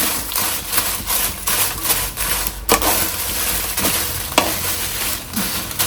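Byadgi chillies are dry-roasted in a pan for rasam powder. A spatula scrapes and stirs them in loud, irregular strokes over a faint sizzle, with no talking.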